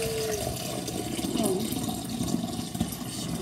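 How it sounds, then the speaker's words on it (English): Purified water pours steadily into a bottle, a continuous close rushing and gurgling with no voices. "and then we're gonna fill it to the top."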